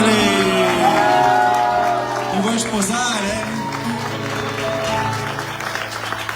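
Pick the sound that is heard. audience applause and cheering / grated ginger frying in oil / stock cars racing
audience applause and cheering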